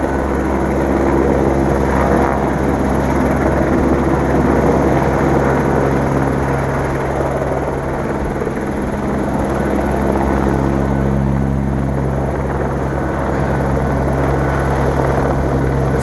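A helicopter hovers overhead with a loud, steady rotor and engine drone that stays constant throughout, with no talking.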